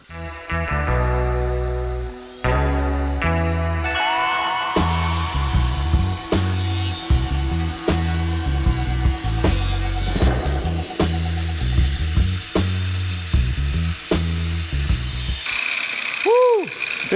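A power tool cuts through the body of a Porsche 718 being fitted with 356 rear quarters, a loud steady whining grind with stepped, rhythmic pulses and metallic squeals running through most of the stretch.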